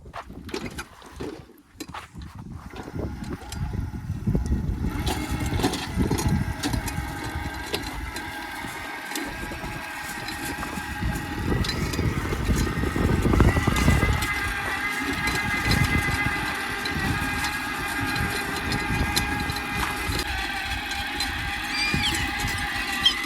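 A homemade electric toy tractor's small motor whirs and grinds steadily with a mechanical, gear-like rattle, running continuously after a brief quiet start; no talking.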